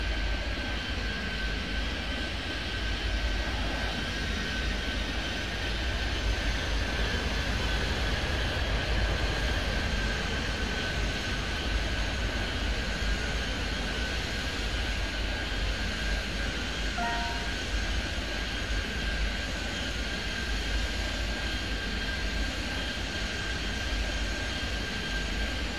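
Steady airliner engine drone during pushback in the airport simulation game Airport Madness 3D at Kingston, a continuous loud hum with a faint high whine, unbroken throughout with no talk.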